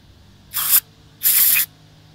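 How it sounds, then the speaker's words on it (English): Two short aerosol bursts of brake cleaner sprayed from a can through its tube onto the rear brake of a 2014 Ram 3500 HD dually pickup, each a loud, close, steady hiss lasting under half a second, separated by a brief pause. "As you push the tube in there, the brake cleaner is going to come out."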